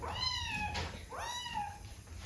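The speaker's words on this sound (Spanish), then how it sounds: "Mi gatita." A cat meows twice in a row, each call a rising and falling wail, close and clear over a faint steady background hum.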